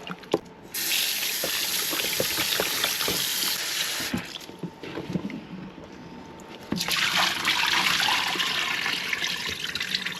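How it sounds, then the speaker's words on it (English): Raw pork meat being rinsed under a running tap in a kitchen sink, a steady splashing water stream with brief breaks and changes in flow as the meat is handled. "Now I'm gonna rinse the meat."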